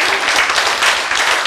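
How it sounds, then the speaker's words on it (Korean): A lecture audience breaks into loud, dense applause, a steady wash of many hands clapping together that fills the hall for the whole moment. "이때는 박수를 쳐야 되는데"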